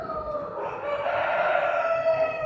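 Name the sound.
chickens crowing at a poultry show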